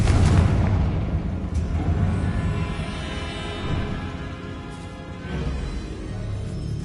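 The fiery Confringo blast spell from Hogwarts Legacy bursts inside a small room with a heavy boom, then a long rumbling tail and more blasts following.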